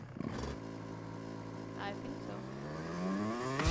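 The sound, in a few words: scooter engine in video game Just Cause 3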